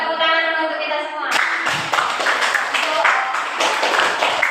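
A group in a classroom workshop for teachers claps hands together, breaking into loud, lively clapping after a sustained tonal sound, continuing steadily to the end.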